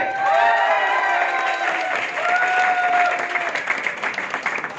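An audience bursts into clapping at an indoor talk, a dense, loud wave of applause with some cheering that thins and becomes more scattered toward the end.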